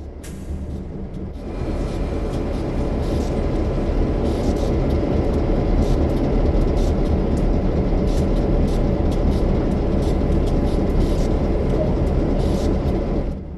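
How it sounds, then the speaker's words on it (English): A diesel F7 locomotive idles with a steady low rumble and rail hiss as hopper cars are uncoupled in Train Sim World 2, the noise continuous and fairly close with no talk. "Use the cut bar on the rear hopper to uncouple the hoppers from this locomotive."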